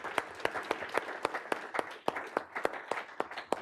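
Sparse, distinct claps from a small seminar audience after a panel session on Europe, individual hand-claps ringing out at irregular intervals rather than a full ovation, fairly quiet and close.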